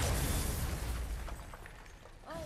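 An exploding crystal in the God of War video game, shot at by the player, gives a loud burst at the start that fades into a rumbling decay, followed by faint shimmering tones.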